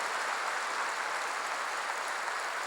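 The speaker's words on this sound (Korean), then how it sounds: "박수 세게 치시오" A church congregation claps during a sermon, a steady, even roar of many hands that stays at a constant level for the whole stretch, with no speech over it.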